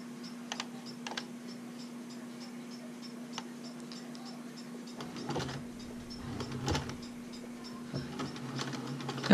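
Sewing machine stitching in reverse along the gimp: a low steady hum under rapid, light mechanical ticking and clicks that grow busier midway.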